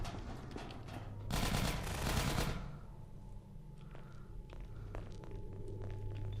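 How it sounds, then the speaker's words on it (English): A loud shotgun blast in the video game Half-Life hits with a roaring burst of about a second, then fades into a low hum with faint scattered clicks and footsteps. "I'm kind of annoyed I ate a shotgun blast like that."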